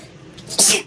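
A single sharp sneeze bursts out near the end, loud and close, over faint background noise during a Dark Souls Remastered play session.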